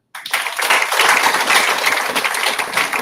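A large crowd of about 400 students at an entrepreneurship talk breaks into applause: dense, steady clapping starts abruptly and holds at full strength, then eases slightly toward the end.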